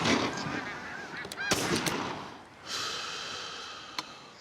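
Wild geese honk during a hunt, a flock's rough nasal calls and snorts overlapping up close, broken by a couple of sharp knocks, with a steady outdoor wash underneath.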